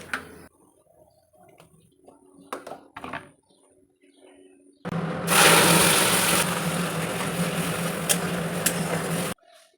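Mixer grinder jar blending green chillies, garlic, black cumin and pumpkin leaves into a paste: a loud, steady motor whir starts abruptly midway and runs several seconds before cutting off, preceded by quieter handling clatter.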